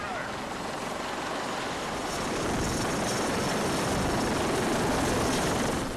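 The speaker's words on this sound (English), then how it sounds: "whilst we land the helicopter on the back" A helicopter lands on the rear flight deck of a ship while heading into the wind, producing a steady, loud broadband roar of rotor and wind noise that builds slightly and holds throughout.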